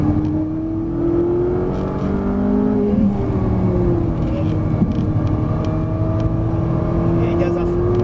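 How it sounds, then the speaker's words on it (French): A Ferrari 458 Italia at a track day in Dreux, engine droning steadily with a rising and shifting pitch under throttle, heard from inside the car with an instructor's voice faintly present beneath the engine. "Et gaz à fond."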